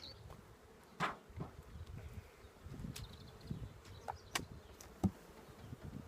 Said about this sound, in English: A lot of nurse bees in here now, just hatched out.